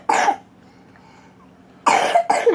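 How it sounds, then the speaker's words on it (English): A young girl who is sick coughs in two separate bursts, the first brief and the second a longer double cough, close to the microphone with quiet between them. "That's my sister coughing. She's sick."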